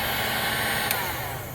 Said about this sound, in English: I've got a heat gun here.